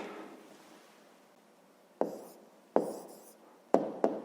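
Pen writing an answer on paper: soft scratchy strokes in a few short bursts, close and quiet, with light taps between them.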